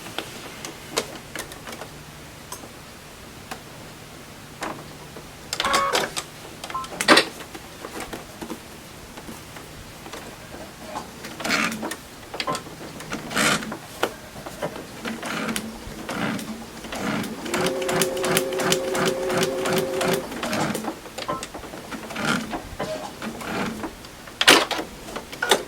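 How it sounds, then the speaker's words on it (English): A sewing machine stitching a log cabin quilt block seam runs in intermittent bursts of rapid mechanical clatter, with pauses and handling noises between runs and a longer steady stretch near the end; no talking. "So now I'm going to sew this line right under number 5."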